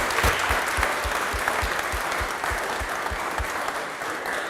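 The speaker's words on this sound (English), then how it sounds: "Let's give them a huge round of applause." An audience at a live coffee competition event gives the top 10 a dense, sustained round of applause, steady and fairly close throughout with a few distinct claps standing out.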